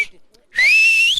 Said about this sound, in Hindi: हम लोग हाथ से सीटी बजाते हैं।